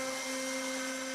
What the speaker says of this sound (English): For this job I decided to run a bevel around the cutout path while the V-bit was installed.